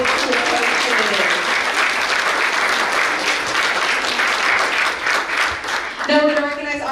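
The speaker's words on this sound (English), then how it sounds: "Big round of applause for our middle school coaches." An audience gives a sustained round of applause for middle school coaches at a school district social studies bee. The clapping is dense and even for several seconds before a voice starts speaking at the end.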